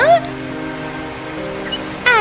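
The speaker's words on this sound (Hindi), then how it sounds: "अरे ये देखो, हमारे आते ही बारिश होने शुरू हो गई।" Cartoon rain falling in an animated story about a crow family, a steady patter running beneath cartoon voices and brief squeaky character sounds.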